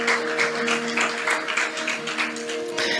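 A church congregation claps in steady rhythm during a family worship service, over sustained organ or keyboard tones, the applause dense and continuous throughout.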